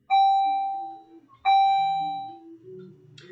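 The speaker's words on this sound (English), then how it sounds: "I'm going to wait for the bell to stop." An electronic bell chimes twice during a chemistry lesson, each a bright ringing tone that decays slowly, loud and close, followed by faint background rustle with no speech.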